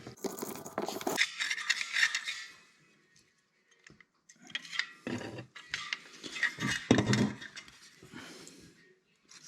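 A car's handbrake lever being worked after a new pin and nut are fitted, giving close, dry ratcheting clicks and scraping mechanical rattles in two bursts separated by a short pause.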